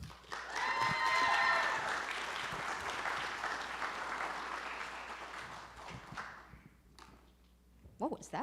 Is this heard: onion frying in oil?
no